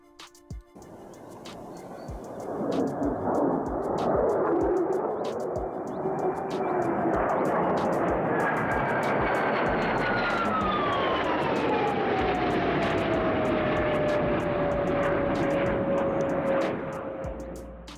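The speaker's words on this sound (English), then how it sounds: "we see a moment of skill in this pilot as they fly an F-35 fighter jet pretty incredibly" An F-35 fighter jet flies past, its engine swelling into a loud sustained roar with a descending whine as it passes, heard from the ground.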